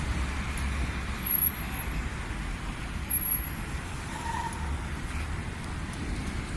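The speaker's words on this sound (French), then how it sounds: "Vous voyez comment les voitures circulent." Street traffic rumbles steadily as cars drive by, a low continuous road noise with a couple of slightly louder passes swelling briefly.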